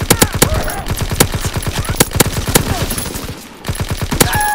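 Loud, close gunfire in a shooter video game: sharp repeated shots in rapid bursts with a brief pause near the end, then more shots.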